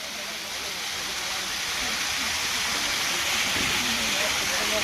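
Water gushes steadily as it is released into the sacred Kapal Mochan Rin Mochan pond, a continuous loud broadband rush with no pauses throughout.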